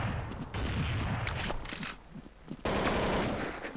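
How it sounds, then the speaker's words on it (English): Rapid automatic gunfire in the Counter-Strike 1.6 video game, with bursts of loud shots cut by short pauses before a sustained stretch of firing at the end. "Someone shot at my teammate."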